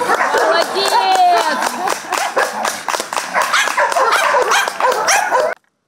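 A small Jack Russell Terrier barks in quick, loud, repeated yaps at a dog sports show, with some whimpering and crowd noise around it.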